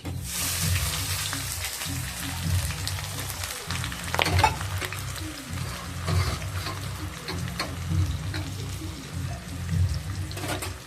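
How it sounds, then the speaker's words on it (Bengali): Continuous crackling sizzle of chopped onions and cumin frying in oil, close and steady, over a low rhythmic hum and occasional scraping of a spoon. "চলো, পেঁয়াজটা ভালো করে ভাজা করে দিই।"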